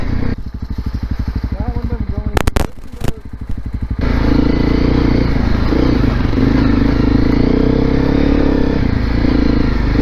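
Honda CRF250L Rally motorcycle climbing steep off-road terrain, its single-cylinder engine thrumming steadily and close, with a brief burst of clatter before the motor settles into a continuous rough drone.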